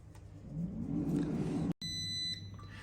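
After an air fryer's rumbling fan-like whir cuts off, a short series of high electronic beeps sounds from it, clear and close.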